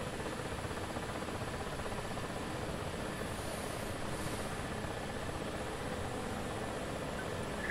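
A military helicopter in a flight simulator game runs at takeoff, a steady, even rotor and turbine drone that holds level throughout with a faint high whine.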